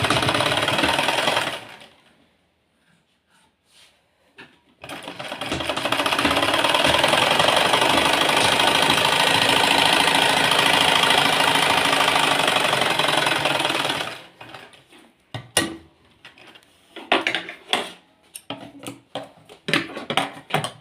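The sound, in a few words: sewing machine stitching a sleeve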